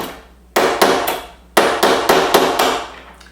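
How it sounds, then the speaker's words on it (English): Sharp hammer blows driving a pin out of a metal watch band: two quick close taps, a pause, then four more spaced strikes, each a crisp metallic crack with short ringing decay, near and loud with no talking. "you're going to go ahead and just hammer it out"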